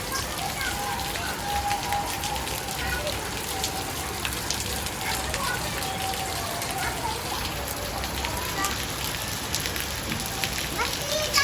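Rain falling on the ground outdoors in a monsoon downpour, a steady mid-level hiss of drops spattering the surface that continues evenly throughout, with faint voices in the background.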